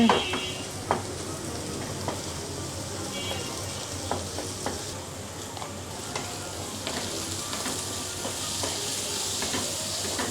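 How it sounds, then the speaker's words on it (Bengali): Chopped onions frying in hot oil until brown sizzle in a steady, close hiss, with occasional sharp crackles and spatula scrapes spread through the sizzle. "এখন পেঁয়াজটার একদম ব্রাউন কালার করে ফেলবো"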